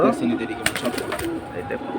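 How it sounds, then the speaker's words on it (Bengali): High-flyer pigeons cooing at a pigeon market, soft throaty coos close by, mixed with rustling and clatter while people talk nearby. "এখানে সবই হচ্ছে হাই ফ্লায়ার কবুতর"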